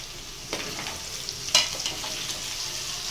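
Ginger garlic paste fries in a pan for chicken pickle with a steady soft sizzle and a few brief scraping clicks as it is stirred, with no voices.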